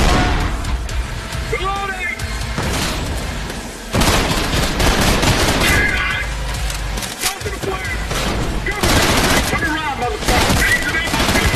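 Gunfire in the shooter game Trepang2, played in VR, comes as loud bursts of rapid shots and single heavy blasts, with someone talking between the volleys.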